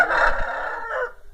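A barred carijó rooster gives one loud, close crow lasting just over a second, rising and then trailing off, with no other sounds around it.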